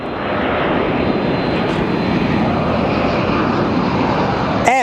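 A 25-year-old UPS Boeing 767 at Phoenix Sky Harbor airport gives off a loud, steady, broadband jet engine roar that holds without letup, with a voice starting just at the end.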